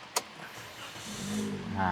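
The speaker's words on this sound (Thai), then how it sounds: "ขออนุญาตสตาร์ทรถเนาะ" A 2020 Toyota Vios with a 1.5-litre engine starts up, a sharp click followed after a pause by a quiet, rising rumble as the engine catches and settles into a low idle, heard faintly from inside the car.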